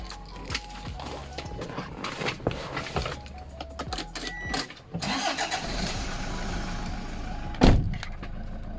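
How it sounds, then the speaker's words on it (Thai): Electric folding side mirrors on a 2018 Toyota Commuter 3.0 D4D van run with a motorised whir, heard close inside the cabin among clicks and handling noises, ending in a sharp thump. "กระจกพับปรับไฟฟ้าเรียบร้อยแล้ว"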